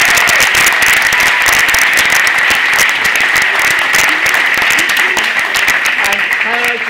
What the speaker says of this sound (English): a round of applause for Mr. Hall.